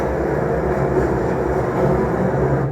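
A tram runs on rails through a city junction, giving a steady, loud rumble with rhythmic low thumps throughout, and no voices are heard.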